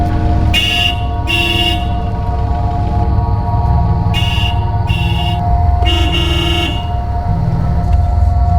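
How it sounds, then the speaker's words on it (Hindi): A car horn honks in several short and longer blasts, loud and close, over a steady engine hum. "कब से हॉर्न बजा रहा हूँ"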